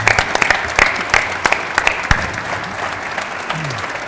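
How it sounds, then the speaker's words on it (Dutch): A carnival crowd claps steadily for a few seconds for the mayor, a dense patter of many hands with a few sharper claps standing out. "Applaus voor de burgemeester!"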